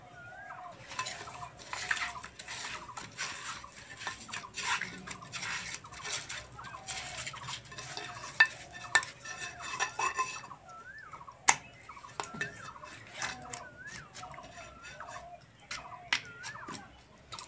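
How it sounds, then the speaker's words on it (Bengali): Pabda fish being rubbed with salt and turmeric by hand, giving close, soft squelching and scraping with repeated light clicks against a dish, steady and fairly quiet, with brief pauses. "মাছে লবণ আর হলুদটা মাখিয়ে নেব"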